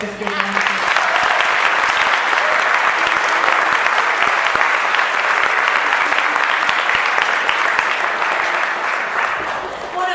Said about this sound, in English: So a really big round of applause for our fifth grade dancers.